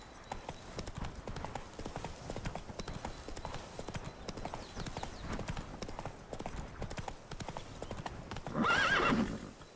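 Horse hooves clip-clop steadily in a video game, joined near the end by a loud, close whinny, with game ambience around it.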